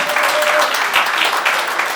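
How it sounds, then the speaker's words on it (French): Dense, steady applause from an audience at a charity radio awards ceremony, continuous clapping for the full two seconds. "on peut applaudir pour la maman"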